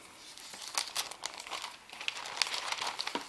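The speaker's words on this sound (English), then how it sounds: "these are made with cellophane. Basically gift wrap cellophane" Gift wrap cellophane pulled from a big roll for cookie decorating crinkles and crackles steadily at close range, a dense run of sharp rustles with no talking.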